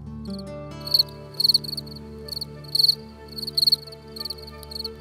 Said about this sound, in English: No longer able to fly, its wings have adapted to produce its distinctive chirping sounds.